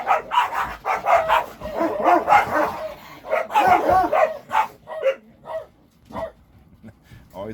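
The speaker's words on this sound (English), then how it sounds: "Dog fight. What are they fighting over?" Several dogs fight and bark in a rapid series of loud, close yips and barks, with growling and whimpering mixed in, while someone talks over the commotion.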